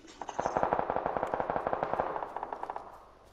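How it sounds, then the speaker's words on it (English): Rapid automatic gunfire in the PUBG battle royale game rattles off as one sustained burst of closely spaced shots that trails away, moderately distant with slight echo. "Can't really tell where they were shooting from, where they were shooting, or even if they were shooting at us."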